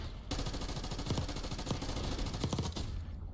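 Rapid SMG gunfire in a video game rattles off in fast bursts with a few sharp separate shots, loud and steady for about three seconds before cutting off.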